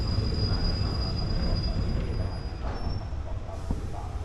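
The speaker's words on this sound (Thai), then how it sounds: "ขบวน259 ครับกำลังจอดที่สถานีศาลาธรรมศพครับ" Ordinary train no. 259 pulls into Sala Thammasop station in Bangkok, heard from aboard as a low rumbling of the carriage with a faint high brake squeal and a few soft clunks as it slows.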